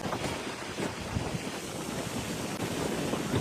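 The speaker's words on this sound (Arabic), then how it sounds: "البحر كامل هكا" Sea waves on a quiet African beach, a continuous broad wash of surf mixed with wind buffeting the microphone, steady and moderately faint with no voices.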